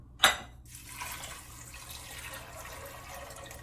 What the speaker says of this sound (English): I'm gonna add 3 cups of water.